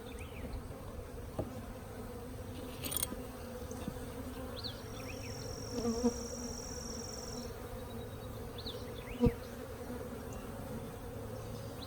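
Honeybees buzzing steadily around an open hive during a nucleus colony install, a dense close hum with a few louder passes near the ear and a brief sharp knock of frames being shifted.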